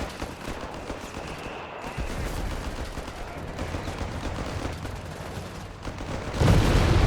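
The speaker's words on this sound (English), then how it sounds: "Hellcat firing away there" Battlefield din from Company of Heroes 3 rumbles steadily, with a Hellcat tank destroyer's cannon and scattered small-arms fire thumping under the mix and a heavier boom near the end.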